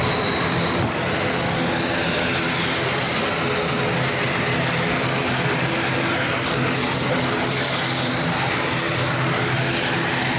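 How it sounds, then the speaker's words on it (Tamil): A steady, broad engine roar of a small aircraft fills the scene at constant loudness, with no voices. "அது பக்கம் போகுது சின்ன ஏர்க்ராஃப்ட் தான்"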